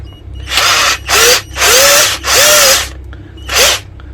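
A ZARINO 72V cordless impact drill whirs loudly in five short bursts, spinning up and cutting off with brief gaps between each run.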